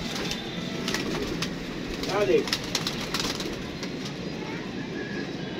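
A pigeon coos briefly amid a steady outdoor background, with someone talking throughout.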